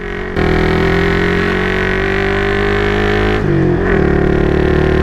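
A single-cylinder Yamaha XSR155 motorcycle engine drones loudly and steadily while riding, a buzzy, vibrating hum with a brief dip in revs before it picks back up.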